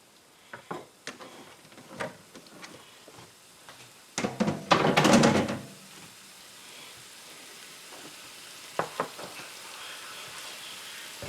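Mushrooms fry in a pan for an omelet sandwich, a soft sizzle under scattered utensil taps and stirring, with a louder burst of hissing and scraping midway before it settles back to a quiet fry.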